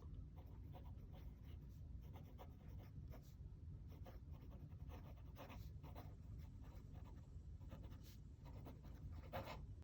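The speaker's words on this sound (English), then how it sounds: "as you can hear from me writing as well, it is quite scratchy" Cheap AliExpress fountain pen writing on paper, a scratchy, dry nib scraping in quick repeated strokes, close and continuous throughout.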